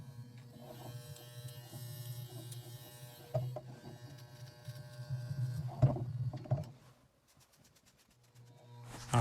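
Andis Masters hair clippers with the guard removed, a steady close electric buzz during a self bald-fade haircut, varying as the blade moves, dropping quieter near the end before rising again.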